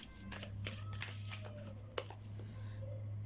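An oracle card deck is shuffled by hand close up, with rapid papery flutters and soft slaps over a low steady hum, one sharper snap partway through, no voices.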